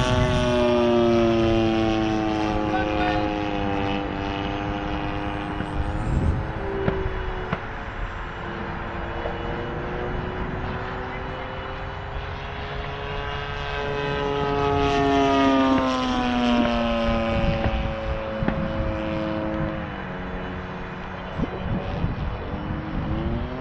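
A model airplane flies overhead with a continuous propeller whine whose pitch rises and falls as it passes, loud and steady against the outdoor air.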